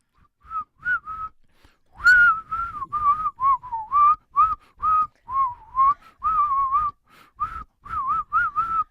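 Someone whistles a lively melody up close, in short phrased notes with brief gaps, clear and alone.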